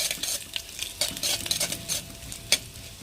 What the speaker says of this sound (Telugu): తర్వాత చిన్నగా కోసిన కొబ్బరి ముక్కలు వేసుకొని బాగా ఫ్రై చేసుకోవాలి